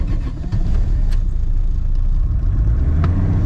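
A car that has sat unused fires up and settles into a loud, rough idle close by, its engine rumbling steadily with small revs and a few faint clicks.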